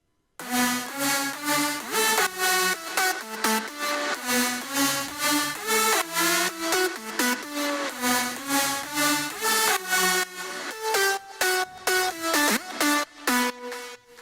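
Two-part synth lead melody playing alone, with bright, harmonic-rich notes in a quick rhythmic pattern of short, evenly spaced phrases that keeps going across the whole stretch.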